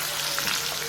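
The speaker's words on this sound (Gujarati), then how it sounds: "રાઈ નાખી તેલ નાખી" Mustard seeds sizzling in hot oil for a moong pulao, a dense close crackle for about a second, with no talk.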